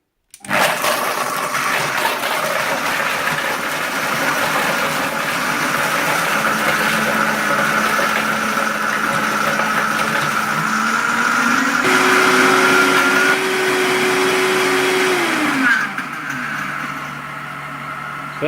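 Two blenders, a Vitamix 750 Pro and a JR Ultra Touch 3 Quantum induction blender, crushing ice at the same time, giving a loud continuous motor whine and grinding with shifting pitch that runs for about fifteen seconds before cutting off.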